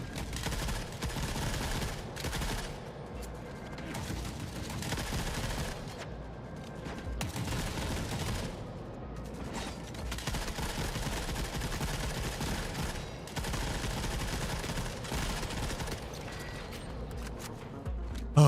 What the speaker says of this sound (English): Oh, grenade launchers.